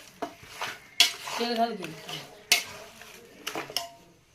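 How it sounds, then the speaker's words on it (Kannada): Ingredients being stirred and mixed in a metal pot, with sharp scraping and clinking of a utensil against the pot at irregular intervals, fairly close, and no talking. "ಇದೆಲ್ಲ ಸರಿಯಾಗಿ ಮಿಕ್ಸ್ ಮಾಡ್ಕೊಳತ್ತಾರ ನೋಡ್ರಿ"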